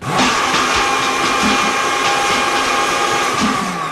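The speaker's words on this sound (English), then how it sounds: "Giuseppe, hit the blender" An electric blender runs continuously, whirring a potion mixture with a loud, steady motor drone and a rough, churning texture that holds for several seconds without pause, alone with no voices.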